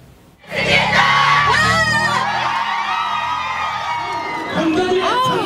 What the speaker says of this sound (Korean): 헌법재판소 결정에 환호와 탄식이 교차합니다.